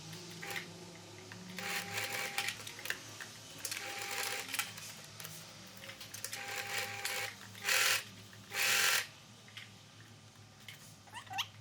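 A sewing machine stitches a skirt lining seam in short, nearby bursts of whirring needle action separated by pauses, with a couple of louder, longer runs near the end and no talk.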